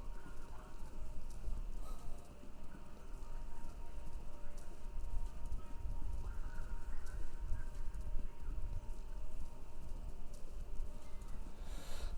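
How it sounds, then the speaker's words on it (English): Racing horses in the Kentucky Route Zero video game, a dense, continuous drumming of hooves with a low rumble throughout, steady and fairly distant, with no talking. "Sounds like horses running a race."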